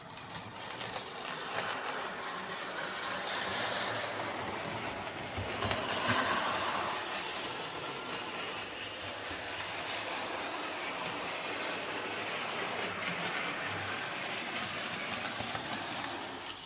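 A Bachmann Caledonian Railway Class 812 model locomotive, No. 828 in blue as-preserved livery, runs steadily around its track with a continuous whirring motor hum and faint rail noise, close by and alone.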